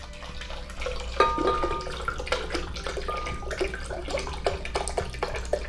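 Spring water pours steadily into a cup for an almond milk mixture, a close, continuous splashing trickle with small bubbling spikes and no talk.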